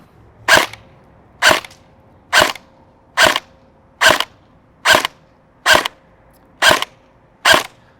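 A Tokyo Marui FAMAS SV airsoft AEG fed 0.20 g BBs and powered by a 7.4 volt LiPo battery fires nine loud, evenly spaced semi-auto shots, about one per second, through a chronograph with no talking.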